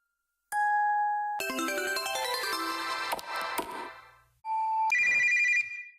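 A smartphone ringtone plays loudly in a spooky mansion video game, a bright electronic melody of chiming tones that stops briefly, then resumes with a higher repeating trill, with no voices.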